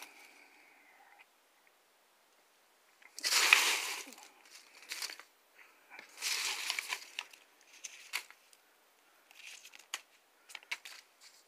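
Pizza boxes being cut by a Wartech PWT260BK: separate bursts of crunching, crackling cardboard with quiet gaps between, close and fairly loud, plus a few light ticks toward the end.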